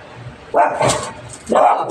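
Toby, a dog at the gate of a home garden, lets out two short, sharp barks about a second apart, fairly close.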